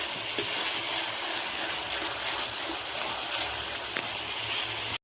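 Spice paste with ground cumin fries in oil as it is stirred, a dense, continuous loud hiss close by with occasional faint scrapes, sustained until it cuts off abruptly at the end.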